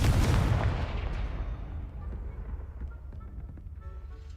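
A Confringo fire spell bursts in Hogwarts Legacy with one loud, booming explosion at the start, then a long rumbling tail that fades over several seconds, with faint scattered clicks and no speech.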